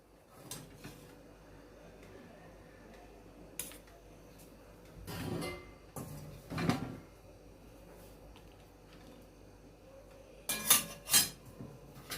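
Cooked vegetable is served out of a pan after the gas stove is turned off, with scattered clinks and clatters of a metal spoon and dishes, several separate knocks in a quiet home kitchen, no talking.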